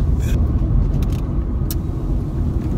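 A car goes by on a road, heard from inside another moving vehicle as a steady low rumble of engine and road noise with faint rattles and no clear approach or fade.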